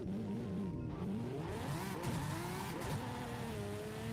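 A race car engine in a video game revs and climbs through gears with tire squeal, a steady loud drone throughout without talk.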